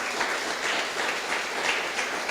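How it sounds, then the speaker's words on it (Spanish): A church congregation applauds the Lord in a steady, dense roar of clapping that holds at an even, moderately loud level from start to finish. "¿Cuántos le pueden dar un aplauso al Señor?"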